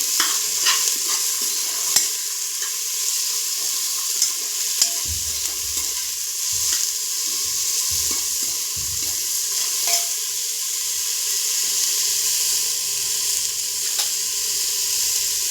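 Finely chopped cauliflower, carrot and peas are stir-fried in a pan, with a constant loud sizzle and the scrape of a spoon stirring through the vegetables at intervals, and no talking.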